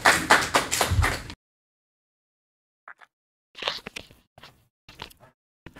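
A short, close burst of applause from a small audience at a senior citizens' policy contest in Chuncheon stops abruptly after about a second, then there is silence, and a few scattered taps and faint sounds follow.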